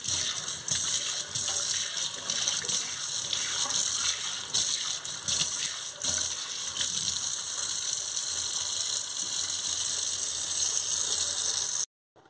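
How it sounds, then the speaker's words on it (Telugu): Water running from a tap into a steel kitchen sink during cleaning, a continuous loud gushing splash for about twelve seconds with some rattling, then abruptly stopping. "ఇప్పుడు మనం వాటర్ వేసుకుందాం."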